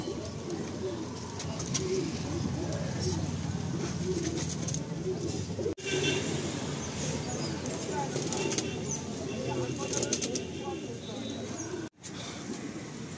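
Pigeons cooing in a loft holding Malwai and Teddy breeds, soft continuous low coos from several birds at close range, with someone talking over them throughout.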